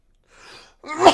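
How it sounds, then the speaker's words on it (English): A single close sneeze from a man, a soft in-breath followed by a short sharp burst. "I have to sneeze."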